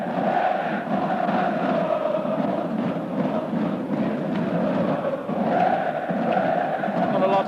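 A fanatical football crowd at a Galatasaray match roars and chants continuously, a dense, loud wall of massed voices with no breaks, heard from within the stadium.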